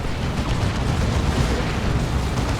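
An orbital bombardment explosion in the strategy game Warhammer 40,000: Dawn of War 2: a loud, continuous rumbling roar of blast noise that stays heavy and unbroken throughout.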